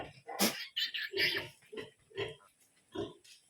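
Newborn piglet squealing in repeated sharp, loud bursts while its teeth are clipped on a pig farm, close up and with no other sound.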